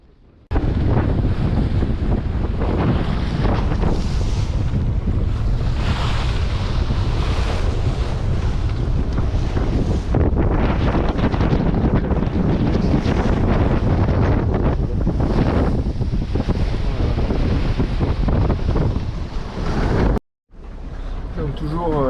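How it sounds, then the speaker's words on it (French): Strong gusty wind roars over the microphone with waves slapping and surging against a Mini-Transat sailboat beating upwind at sea in 25-28 knot gusts, reefed sails; loud and continuous throughout, briefly cut near the end. "on a à nouveau encore du vent assez fort, rafale à 25-28 nœuds dans le nez"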